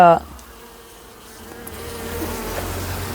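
Honey bees droning at an open hive during honey harvesting, a close, dense buzz that holds steady and builds slightly, with a brief clatter at the very start.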